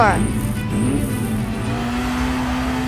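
Hot Wheels diecast cars roll down a toy race track at the start of a race, a steady whirring rumble throughout with a brief squeal at the start, heard under a voice announcing.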